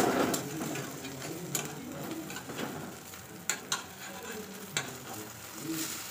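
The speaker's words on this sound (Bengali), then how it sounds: "এখন আমি দেখো ডিম ভাজা করব" An egg fries in a pan in a home kitchen, a soft, steady sizzle running throughout with a few sharp clicks and taps of utensils over it; no one speaks.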